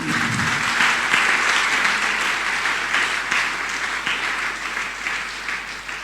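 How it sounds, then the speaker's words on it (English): Steady audience applause at a Special Intervention Program closing ceremony, a broad, even wash of many hands clapping in a large room, holding at moderate loudness throughout. "Can we please give a round of applause for the SIP?"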